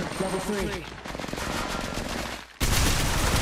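Rapid automatic gunfire rattles in Apex Legends Mobile, a steady burst of shots that runs for about two and a half seconds, drops away briefly, then resumes loudly. Someone talks over the start of it.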